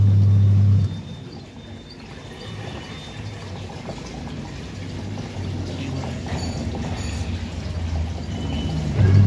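An LG washing machine runs after its gearbox was replaced, with a steady low hum and churning water, alone and fairly loud, with a louder motor burst at the start and end.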